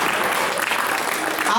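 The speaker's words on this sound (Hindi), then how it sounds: "आगे वाले लोग तालियां कम बजा रहे हैं, आप बजा सकते हो" Applause from an audience at an all-India Hindi poetry gathering (kavi sammelan), a steady dense patter of clapping that holds throughout without a break.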